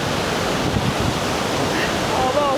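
The waterfall at Iguazu Falls' Devil's Throat on the Argentina side gives off a constant, dense roar with wind buffeting the microphone. A faint voice comes through near the end.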